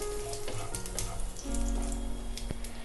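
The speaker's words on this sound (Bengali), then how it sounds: "এবারে আমি এই তেলে দিয়ে দেব ফোড়ন। দিয়ে দিচ্ছি 2টো শুকনো লঙ্কা এবং গোটা জিরে।" Dried red chillies and whole cumin seeds crackle and sizzle steadily in hot oil for a tempering, a close, continuous frying hiss with a few sharp pops and a brief stir partway through.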